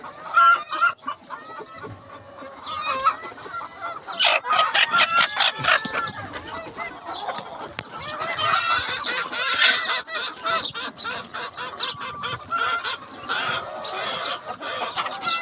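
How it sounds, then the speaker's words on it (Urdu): Golden Misri egg-laying hens on a breeder farm cluck and cackle in a busy, overlapping chorus, with a rooster crowing among them, loud and near throughout. "یہ ہمارا بریڈر فارم ہے جہاں پہ انڈے والی مرغی ہم نے رکھی ہوئی ہے"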